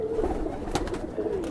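Pigeons of the Madrasi kalpare breed coo in low, soft calls, one brief note standing out midway over a steady murmur of birds nearby.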